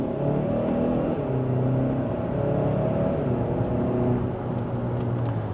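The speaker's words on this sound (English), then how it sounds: "And then still in sport mode, second gear," A 2025 Hyundai Santa Cruz accelerating hard in sport mode in second gear, pedal to the floor, with a steady, loud engine drone and rising harmonic tones heard from inside the cabin, no talking.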